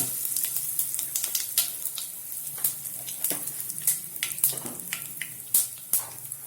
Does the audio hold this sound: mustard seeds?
yes